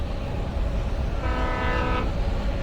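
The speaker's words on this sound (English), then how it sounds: "Train!" A train passes in the video game Alan Wake, a steady low rumble of rolling wagons with a horn-like tonal blast rising midway for under a second, unaccompanied by any voices.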